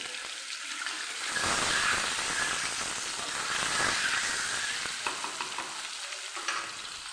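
Eggs frying in a hot pan give a steady, fairly loud sizzle that swells after the start and holds evenly, with a few brief crackles and no talking.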